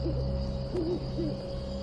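An owl hoots at night, two or three short wavering calls standing out clearly over a steady low background hum, close and fairly loud, with no voices.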